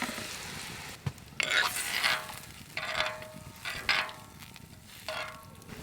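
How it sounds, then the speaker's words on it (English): Crab stock is poured into a hot pot with tomatoes, giving several bursts of hissing, sizzling splash with quieter bubbling between the pours. "Now I'm gonna add the stock back in that we made earlier."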